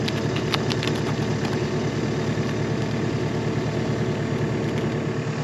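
A JCB forestry mulcher runs at idle, a steady, loud mid-to-low engine drone close by with no break, no voices over it.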